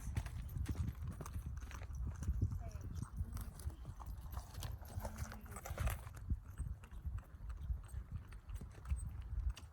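A horse trots on a lunge line over slick, damp ground, its hooves clip-clopping in a steady, close rhythm through the whole stretch against a low background rumble.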